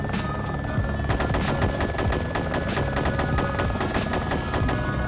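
Continuous gunfire in Arma, with rapid automatic shots cracking over one another in a dense, sustained stream, loud and steady from start to finish.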